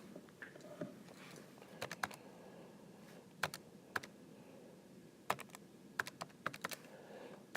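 Keys are tapped in quick irregular clusters as numbers are entered on a keyboard or calculator, crisp and close against a quiet room background with no talking.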